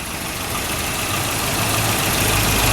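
A steady, rumbling engine of a 30-year-old Volvo 240 idles continuously, a low mechanical drone with a faint knocking texture throughout.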